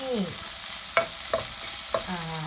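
Shrimp frying in a pan with garlic, a steady close sizzle broken by three sharp scrapes of a utensil stirring against the pan, with no talking.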